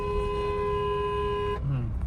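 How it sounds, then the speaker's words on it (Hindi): A car horn sounds in one long continuous blast lasting about a second and a half in congested Indian city traffic, then cuts off abruptly, leaving only road noise. "लॉन्ग हॉर्न प्रेस करो।"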